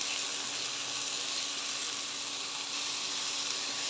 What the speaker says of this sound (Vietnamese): rồi mình cho nấm bào ngư vô, mình xào thử